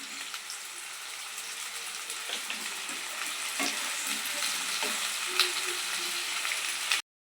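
Chopped onion and drumstick pieces fry in a pan with a loud, dense, continuous sizzle and light stirring, then cut off abruptly at the end with no talking.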